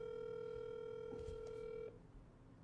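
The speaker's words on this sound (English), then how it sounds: "I'll make a phone call." A phone call being placed shows a steady, quiet telephone tone that holds for about two seconds with a few brief clicks. It then cuts off, leaving faint room noise.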